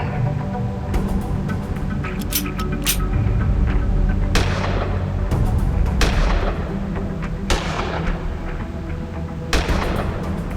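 Weapon shots fired at a target in the game Gemini Rue: a series of loud, booming gunshots at irregular intervals, each with a sharp crack and a decaying tail over a low rumbling background.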